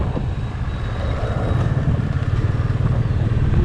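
A Kawasaki ZX10R with a loud exhaust is ridden along, its deep engine rumble close and steady throughout with a slight swell toward the end.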